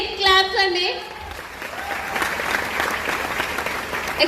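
Big round of audience applause at a business talk event, dense clapping carrying on steadily after an opening moment of speech over it.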